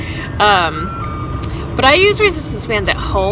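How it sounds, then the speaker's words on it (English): An ice cream truck passing outside plays its chiming jingle in repeated bursts, heard clearly in the background while someone talks about resistance band workouts at home. "Sorry for the noise in the background, there's an ice cream truck."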